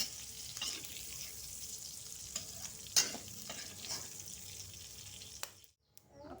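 Salted squid fries in a pan with a steady, moderately loud sizzle and occasional stirring scrapes, ending in a brief quiet near the close.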